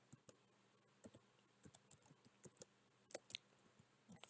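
Light, irregular key taps on a computer keyboard, quiet and close, scattered in short bursts with brief pauses between keystrokes and no voices.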